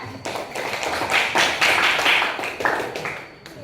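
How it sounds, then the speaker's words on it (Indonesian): Classroom audience applause during a school Islamic religious education lesson, a short burst of many hands clapping nearby that swells and then tapers off, with no talking. "Kita beri aplaus juga"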